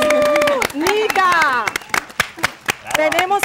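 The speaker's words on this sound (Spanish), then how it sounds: "Un aplauso para Liz" An audience applauds at a talent show, sharp irregular claps under an excited host who keeps talking through it.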